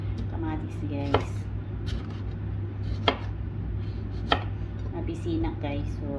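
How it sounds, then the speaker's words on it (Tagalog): A knife slices through tomatoes on a cutting board in a home kitchen, giving sharp, separate taps at an uneven pace under a steady low hum, with faint talk in the background. "Hiwain ko yung kamatis guys."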